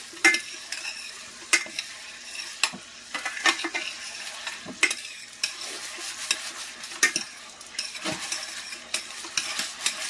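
Shrimp fry in a pan for buttery garlic shrimp, a continuous sizzle broken by frequent scraping strokes and metallic clinks of a utensil stirring close by.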